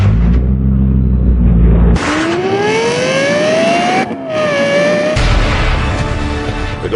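A Lexus LFA engine revs hard and close, pitch rising sharply as it climbs toward the red line, briefly dropping, then surging again with a loud, high-pitched wail.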